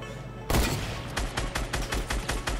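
Gunfire in the Fortnite video game: a loud opening blast followed by a rapid series of about eight sharp shots in a steady rhythm, close and dense, with no talk over it.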